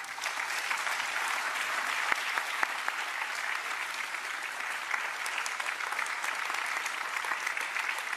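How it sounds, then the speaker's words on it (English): Steady, even applause from an audience at a stage event welcoming a Carnatic vocalist, sustained dense clapping at moderate distance with no talk over it, holding at an even level throughout. "Let's all now please give a round of applause"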